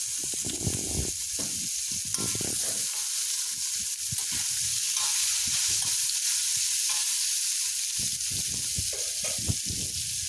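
Pieces of amaranth stalk fry in hot oil in a pan, giving a steady close sizzle broken by repeated scraping stirs throughout.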